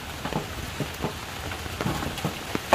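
Rain pattering down on an outdoor cooking spot where cornmeal dumplings and curry chicken are being made, a steady close hiss of drops on surfaces with a few heavier splats and no talking.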